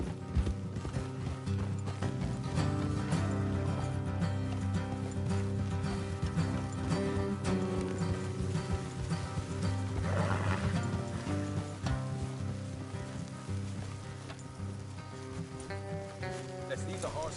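Horses in the video game Red Dead Redemption 2 clip-clop steadily along a trail with creaking tack, set under a continuous music score, with a faint snort or whinny partway through.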